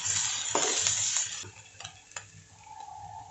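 Curry leaves are dropped into hot oil with onion, giving a bright crackling sizzle that fades after a second, followed by a few spoon clinks and stirring taps against the pan, close by.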